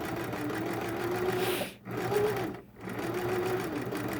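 A sewing machine stitching the seam of a fabric face mask, running as a steady close mechanical whir that pauses twice briefly before starting again.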